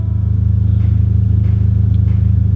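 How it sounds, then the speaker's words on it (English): Audi A3 engine idling with a loud exhaust, a deep, steady, evenly pulsing rumble heard close up from inside the car, with no talking. "So just kind of idling in the car here"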